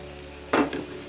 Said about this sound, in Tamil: நல்லா பச்சை வாசமாக வதக்கலாம்